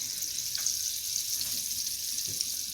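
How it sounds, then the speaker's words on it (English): Thick palm oil heats in a hot pot for Nigerian egusi soup, giving a steady, fairly quiet hiss and faint crackle with a few soft clinks. "I'm adding my palm oil now."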